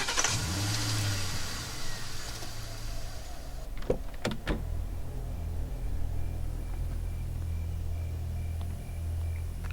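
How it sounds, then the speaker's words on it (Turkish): A car engine in a video game hums steadily at a low pitch, with a few sharp mechanical clicks partway through, then settles into a constant drone. "Şimdi muhtemelen bu bizim arabamız. Ben süreyim."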